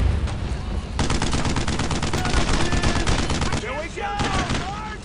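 Sustained suppressing machine gun fire in a Brothers in Arms World War II battle, a loud, dense, continuous rattle of rounds with shouting voices and tank noise mixed in.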